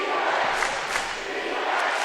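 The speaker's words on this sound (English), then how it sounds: "it's the Bears student section leading the chant of defense from the crowd" A basketball student section at a boys' high school semifinal roars a dense, sustained crowd chant, loud and close, filling the gym with steady cheering voices.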